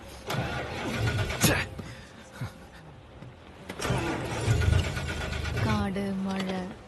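A car engine cranks and catches with a short starting burst, then settles into a low rumble amid rainy forest ambience; a person speaks briefly nearby.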